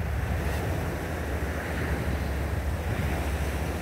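Broadband roar of a wave breaking over and flooding the stern of a boat at sea, continuous rushing water and surf with wind buffeting, loud and sustained throughout.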